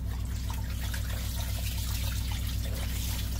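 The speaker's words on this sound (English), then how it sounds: "I just take it out and I gently hand squeeze" Water trickles and drips steadily as wet laundry taken from a portable twin tub washing machine is squeezed by hand, over a constant low mechanical hum.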